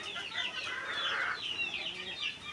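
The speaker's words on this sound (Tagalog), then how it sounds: "Nag-iintay na po ng patoka ang mga manok" Chickens on a Filipino backyard farm clucking while waiting to be fed, several close, overlapping calls in quick bursts, moderately faint.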